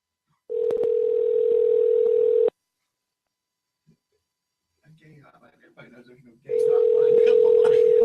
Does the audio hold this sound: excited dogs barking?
no